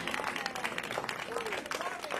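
A church congregation claps hands together, a dense, continuous patter of many hands filling the room, with voices talking and calling out over it.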